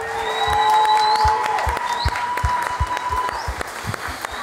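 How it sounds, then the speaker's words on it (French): A church congregation applauds at a Christmas celebration, steady clapping filling the room with a sustained organ or keyboard tone held beneath it, fairly loud and close throughout. "On les applaudit encore une fois."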